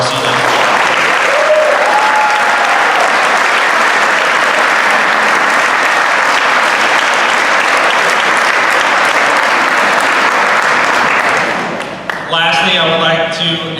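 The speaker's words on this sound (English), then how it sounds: "Let's give a round of applause for our seniors." Sustained loud applause from a banquet audience honouring graduating seniors at a high school awards banquet, steady clapping for about twelve seconds before tapering off, with a voice beginning over the fading claps.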